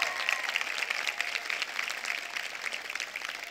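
Audience applauding graduates at the Haigazian University 2023 commencement, dense continuous clapping from a large crowd, steady and fairly loud throughout without talking.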